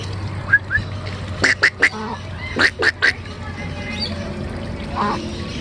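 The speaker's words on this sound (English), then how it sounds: "I don't think the ducks like us eating." Ducks quack nearby in short bursts, a couple of single calls followed by rapid clusters of three, loud and close against a low background hum.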